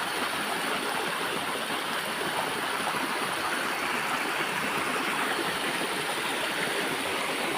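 A clear river rushes and babbles steadily and loudly, a dense continuous flow with no pauses and no voices.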